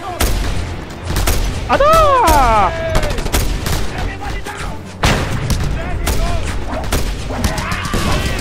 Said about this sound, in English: Another mounted gun by the shrine!